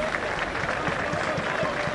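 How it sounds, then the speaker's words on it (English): Wrexham fans at a Chorley away match applaud a substituted player, a steady, fairly loud wash of clapping from the crowd under commentary. "who gets a fantastic round of applause from the Wrexham fans"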